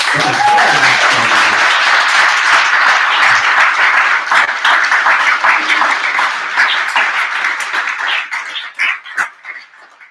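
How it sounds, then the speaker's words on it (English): Audience applause at a primary election debate for mayoral and city council seats: a loud, dense, sustained round of clapping that thins into scattered claps over the final seconds. "I want to give them a round of applause"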